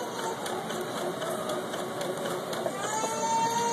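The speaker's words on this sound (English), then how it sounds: "you're going to stitch this zigzag over this top thread" A sewing machine stitches a zigzag gathering stitch over a top thread, running as a steady continuous hum at close range with no one speaking.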